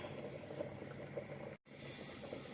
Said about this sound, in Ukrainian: Так, зараз покажу, смажиться моя рибка.